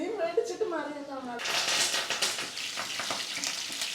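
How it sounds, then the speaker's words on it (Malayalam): Curry leaves drop into hot coconut oil in a home kitchen. A brief stretch of talk gives way to a loud, close, continuous sizzle and spatter that lasts to the end. "തിളച്ച എണ്ണയിലോട്ട് മമ്മി കറിവേപ്പില ഇടുവാണ്."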